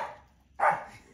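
An Alabai dog gives two short, harsh vocal bursts, one at the start and a louder one after a brief pause, close by with no talking.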